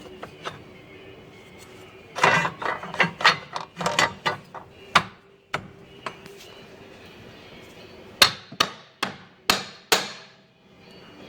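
Metal clutch basket tapped onto the shaft of a Hisun UTV during a wet clutch replacement: a run of sharp metallic knocks in two clusters, loud and close, with rapid taps then single spaced strikes.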